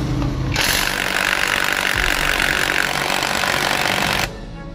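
A Hikoki impact wrench running in reverse, a loud burst of rapid hammering lasting about four seconds, then it stops abruptly, close up.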